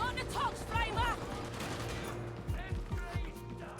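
Gunfire in a vampire-themed video game: a few sharp shots ring out in a quick cluster near the start, then several more spaced bursts later on. They sit over steady game music and ambience, with voices talking throughout.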